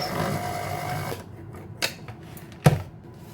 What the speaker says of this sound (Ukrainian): і знову добре перемішую